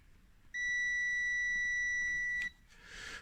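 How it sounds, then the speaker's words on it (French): A steady electronic continuity tone from a multimeter sounds for about two seconds while a drop target on a Gottlieb pinball playfield is pressed down, clear and close, then cuts off abruptly. "on entend en fait le multimètre qui sonne"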